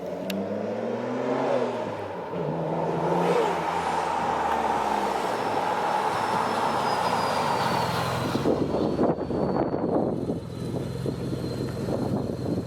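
A Mitsubishi GTO with a suspected boost leak drives up and passes, its engine noise swelling as it approaches. The note fades into a steady road hum, with a faint high whine running through it.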